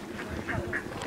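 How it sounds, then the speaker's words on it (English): Ducks quack by the water, a few close nasal calls in quick succession over a faint outdoor background. "More duck geezers."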